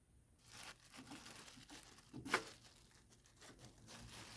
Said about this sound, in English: Now we can take off our plastic bag